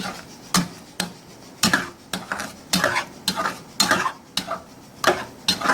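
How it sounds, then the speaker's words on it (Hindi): A spoon stirs yogurt into a pan of mutton liver (kaleji) masala, giving regular rhythmic scrapes and taps against the pot roughly twice a second, close and clear, with no talk. "इसमें योगर्ट, जो कि तकरीबन 100 ग्राम लिया हमने, और फिर इसको अच्छी तरह से इसमें मिक्स कर लेना है"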